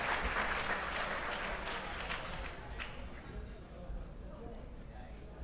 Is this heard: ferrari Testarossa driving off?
no